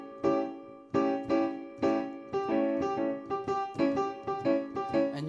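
A guitar strums a chord repeatedly in a steady rhythm, each strum ringing briefly before the next; clear and close, no voices.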